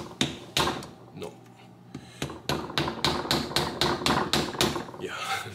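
A hammer strikes a metal body panel on a 1973 Triumph Spitfire 1500 during restoration, about a dozen sharp, close blows, mostly in a quick even rhythm after a few spaced hits.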